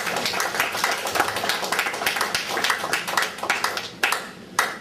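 Scattered, uneven hand clapping from a church congregation at a faith service, quick claps of moderate loudness thinning into a few sharp isolated claps at the end.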